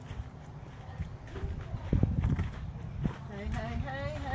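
Miniature horses walk in, their hooves clip-clopping in a light, irregular patter over a steady background hum, with faint voices present.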